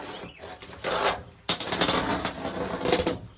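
Old, brittle glazing putty being scraped by hand off an antique wooden window: close, gritty scratching strokes in uneven bursts, with a brief pause before a longer, denser run of scraping.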